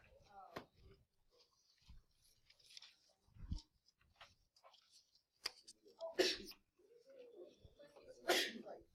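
A sharp sneeze bursts out during a home math lesson on the unit circle, with a second explosive burst moments later, both standing out among nearby voices and small handling noises.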